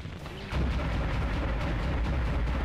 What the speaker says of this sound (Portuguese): Eu tô atirando só pra encher o saco mesmo.